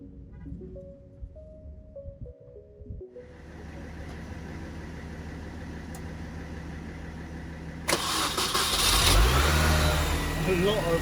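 Starter clicks and cranking, then a Mini's engine catches and settles into a steady idle before revving up louder near the end.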